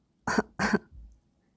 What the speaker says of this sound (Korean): 꽃은 두어 번 기침을 했다